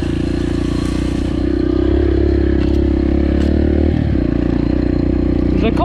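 A Yamaha TTR 125L enduro motorcycle engine runs at gentle throttle, a close, steady low rumble that swells slightly as the rider eases on the gas, with faint clatter and scraping over it.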